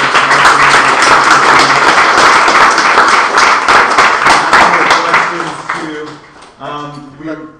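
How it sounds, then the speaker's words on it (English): Applause for guests at a talk event: loud, dense clapping for about five seconds that fades out, after which people begin talking. "let's give them one more round of applause."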